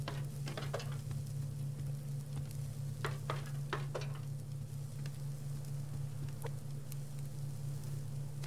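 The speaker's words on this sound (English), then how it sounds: "Let's throw a couple steaks in there." Steaks frying in a pan give a steady soft sizzle with scattered crackles and pops, under a constant low electrical hum.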